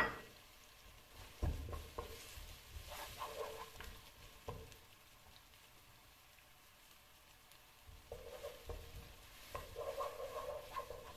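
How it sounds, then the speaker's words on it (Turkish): Onions hit hot oil in a pot and fry with a quiet, steady sizzle, broken by a few louder clatters and stirring sounds. "Soğanımızı şimdi tenceremizin içine alalım. Şöyle bir cız sesi geldi."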